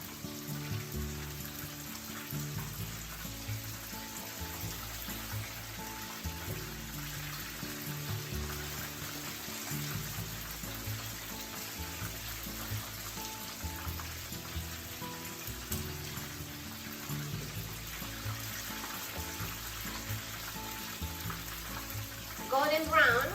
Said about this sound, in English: And fry them for about 3 minutes on each side